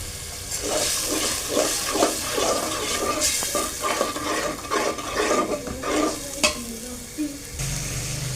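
Spice masala with salt frying in a pan, stirred again and again: close, steady sizzling broken by scraping stirring strokes, with a short burst of a different, wetter sound at the very end.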